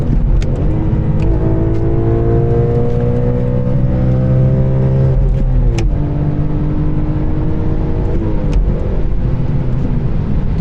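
A car engine revs hard and bounces off the rev limiter with missed gears, a loud steady roar held close for several seconds, dipping in pitch with each shift attempt and cutting back briefly before climbing again.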